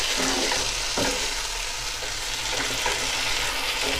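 Pepper sauté with salt being stirred in a sizzling pan, a constant loud frying hiss with a few soft scraping strokes of the spoon, close by and without voices.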